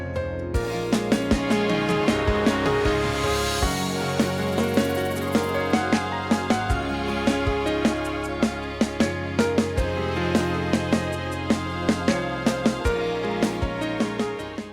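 Basic organ patch from a VST plugin playing within a full gospel song arrangement, sustained chords under steady rhythmic percussion hits, loud and continuous throughout.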